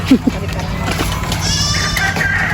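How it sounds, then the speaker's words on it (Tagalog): A female goat gives two short bleats near the start at a campground, followed by background chatter and faint high-pitched animal or child sounds. "ang babaeng kambing"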